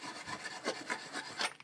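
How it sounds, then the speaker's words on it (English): A hand deburring tool is spun inside a drilled hole in a custom radiator shroud for a Triumph TR4, giving close, raspy scraping strokes that rise and fall in a quick rhythm. "Put this in the hole and spin it, and it'll take the burrs right out."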